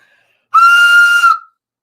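One loud, sharp whistle held steadily for about a second, close and piercing, then cut off, with silence before and after.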